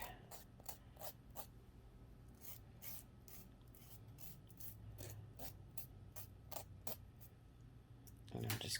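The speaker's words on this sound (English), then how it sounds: "I'm just gently pulling the nail file away from my nail." A nail file rasps along the edge of a nail polish strip in a French manicure, a series of short, quick scraping strokes, faint and close, repeated in an uneven rhythm.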